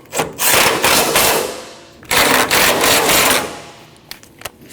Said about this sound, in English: Now we can tighten down our radiator support bolts